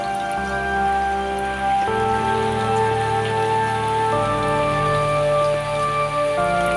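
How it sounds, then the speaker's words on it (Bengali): A steady downpour drums over flooded paddy fields in Dinajpur district, a continuous dense patter of raindrops on water, close and even in loudness throughout. "প্রায় 2 ঘন্টার মতো বৃষ্টি হয়েছে।"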